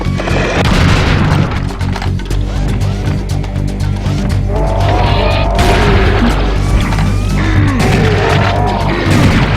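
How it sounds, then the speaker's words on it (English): Sustained, loud gunfire from a minigun in the video game Serious Sam HD, a dense, continuous roar of rapid shots with booming low end that runs unbroken through the whole stretch, with no voices over it. "look at how accurate this minigun is"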